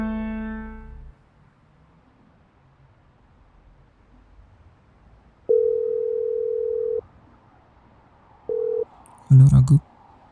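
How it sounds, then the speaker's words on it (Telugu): A telephone call being placed: a steady tone sounds for about a second and a half, followed by a shorter burst of the same tone, after a brief voice at the start and a louder voice near the end. "ఒకసారి రఘు కాల్ చేద్దాం."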